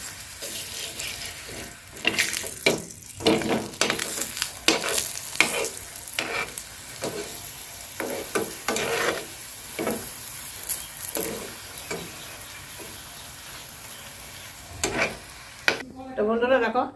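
Palak puri fries in oil on a flat tawa with a continuous close sizzle, punctuated by frequent rhythmic scraping and turning strokes of a spatula.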